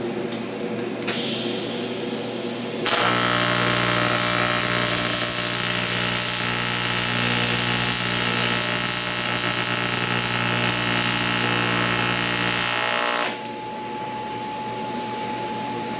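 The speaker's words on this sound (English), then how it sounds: "I'm gonna tack weld both ends at 145 amps, cold first." Aluminum TIG tack welding at 145 amps, a steady loud buzzing hum that starts abruptly, holds evenly for about ten seconds and then cuts off, with quieter shop ambience on either side.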